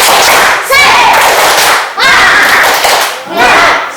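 A classroom group performs a rhythmic spirit clap, three loud bursts of many hands clapping in unison with shouted voices mixed in.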